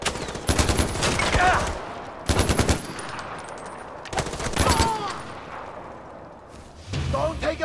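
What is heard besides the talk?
mounted machine gun firing in the video game Far Cry 4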